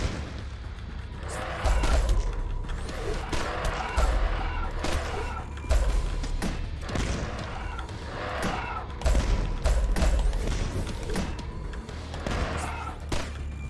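Mortar launcher firing repeatedly in the video game Dusk, heavy booming blasts every couple of seconds over a busy backdrop of game effects.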